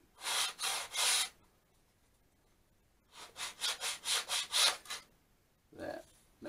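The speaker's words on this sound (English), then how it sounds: "I make these up myself out of bits of ply, just so you got a really nice straight edge with 400 grit sandpaper" Strokes of 400 grit sandpaper on a plywood sanding block across wood, a few broad rasping rubs, a pause, then a faster run of about seven short strokes, close and dry.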